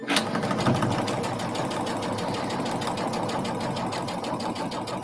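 A sewing machine stitches steadily and close up, a fast even mechanical whir running throughout at a constant pace, alone with no voices.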